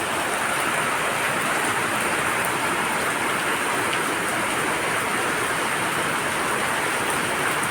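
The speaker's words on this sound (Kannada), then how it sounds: "ವಾಯುಭಾರ ಕುಸಿತದ ಮಳೆ ಇರಬಹುದು" Heavy rain from a low-pressure system pours down in Mangaluru, a dense, unbroken hiss of drops on surfaces with runoff, loud and steady throughout and no voices.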